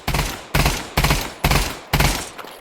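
Five sharp, loud Glock gunshots fire at roughly half-second intervals in the VR shooter game Pavlov VR, each with a short decaying tail, attempting fully automatic fire but coming out as separate shots.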